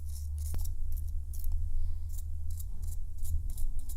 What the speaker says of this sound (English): They are tearing a building down next door to me